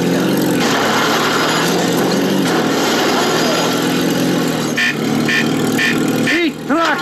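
A small tractor engine in The Simpsons Road Rage video game buzzes steadily and loudly, with brief horn-like tones and a few whooping effects near the end.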